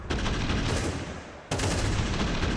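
Gunfire during a Counter-Strike grand-final match, a sharp burst of shots followed by sustained, dense firing, a brief dip in the middle and then a sudden loud resumption.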